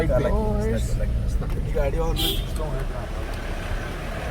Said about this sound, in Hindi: गाड़ी आ रही है, ये गाड़ी यहाँ से कैसे आ रही है, ये हैरानगी की बात है